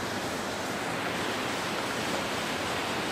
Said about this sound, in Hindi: तो हम खड़े हैं एक नदी या झरना बोलो